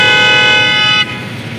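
A loud, close aftermarket car horn on a 2021 Toyota Fortuner blares in one steady, harmonically rich blast for about a second, then cuts off, leaving engine noise.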